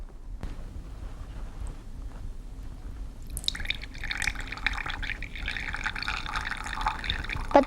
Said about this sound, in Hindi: अब मैं ये पत्थर इस पानी में डालूंगी।